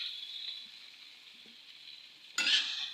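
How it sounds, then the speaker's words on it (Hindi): Steady sizzle of spices frying in a pan, then a sudden louder hiss as grated banana is tipped in, close and alone with a couple of faint stirring clinks. "अब हम जो केला कस कर रखा था वो इसमें डाल देते हैं"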